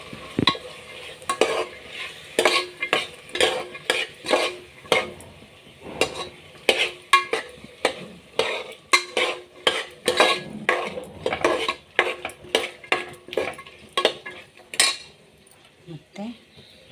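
Vegetables for pulao fry in a pan while a spatula stirs them, making a rhythmic series of sharp scraping and clinking strokes over a soft sizzle, close and fairly loud, with a brief pause near the end.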